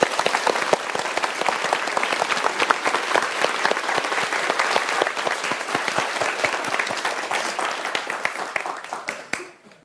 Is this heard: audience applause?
yes